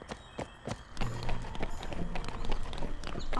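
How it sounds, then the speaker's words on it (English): Horse hooves squelch and clop through mud in a steady running rhythm in Barbie Horse Adventures, layered with game music and effects, fairly close and moderately loud. "The mud sound is kind of disgusting."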